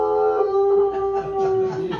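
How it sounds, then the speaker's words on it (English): A dog howls in a radio drama: one long, loud, close wavering howl that holds for about two seconds, with faint background noise under it. "Oh. The dog again."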